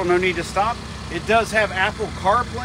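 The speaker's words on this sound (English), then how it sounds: "You can hear it running right now. Don't let the four-cylinder fool you." A 2022 Ford Bronco Big Bend Edition with a four-cylinder EcoBoost engine idles in a low, steady rumble beneath continuous close speech from a man.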